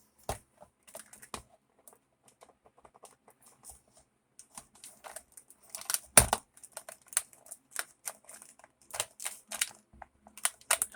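Tough plastic clamshell packaging around a fake Buck 119 knife being cut and pried open, heard as scattered sharp clicks, snips and crinkly crackles that grow busier and louder in the second half, close up with no talking.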